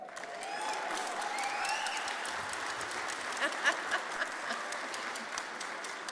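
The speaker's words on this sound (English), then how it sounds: "You don't like applause?" A crowd at an aquaculture lab grand opening claps in a dense, moderate roar of applause, with a few sharper individual claps standing out midway and voices murmuring underneath.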